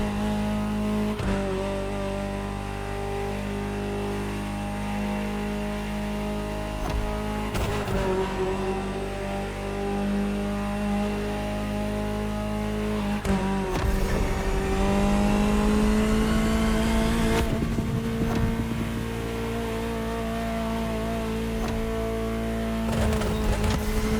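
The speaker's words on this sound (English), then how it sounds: "Just listen to the car you're driving." Sustained Ferrari supercar engine drone in The Crew Motorfest, with rising revs and gear-shift surges, loud and continuous throughout with no talking.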